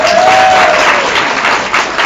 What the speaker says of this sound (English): So everyone give her a round of applause.